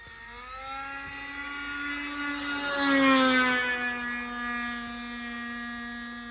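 Radio-controlled Lazy Ace model airplane making a low pass: a steady buzzing engine drone that swells as it nears, peaks around the middle with a slight pitch drop, then eases off as it passes.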